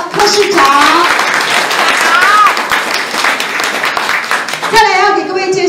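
Loud, sustained applause from a crowd greeting Taipei mayor Ko Wen-je at a farmers' forum at the Chulu Ranch herb hall in Beinan, Taitung. The clapping fills the whole stretch, with voices rising over it near the end.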